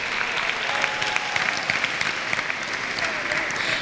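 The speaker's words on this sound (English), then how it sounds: "Can we give them a round of applause?" Pageant audience applause at Miss TU 2015, steady crowd clapping sustained throughout at moderate level, with faint voices or cheers mixed in.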